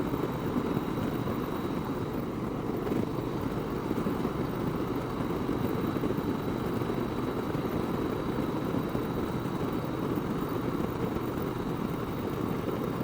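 A gray metallic Yamaha Roadstar Silverado S motorcycle engine rumbles steadily and evenly, a continuous low drone with no talk over it.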